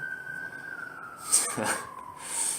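A distant siren wails faintly, its tone drifting slightly downward, with some brief rustling noises midway.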